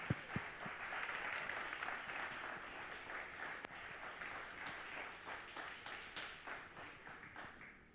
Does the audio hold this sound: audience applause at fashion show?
yes